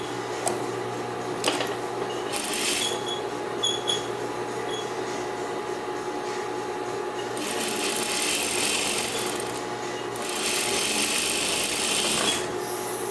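Sewing machine stitching a sheer fabric onto its underlining, a steady mechanical whir running in bursts with brief pauses and some rubbing of cloth, close and fairly quiet with no talking.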